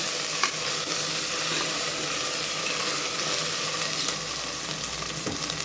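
Ginger garlic paste and onions sauté in hot oil for mutton dalcha, a steady, close sizzle with occasional scrapes and clinks of a stirring spoon against the pan.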